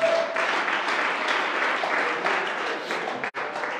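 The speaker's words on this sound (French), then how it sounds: "Acclame Jésus" A church congregation breaks into applause at a worship service, a dense, even patter of many hands that fills the room for a few seconds and briefly dips near the end.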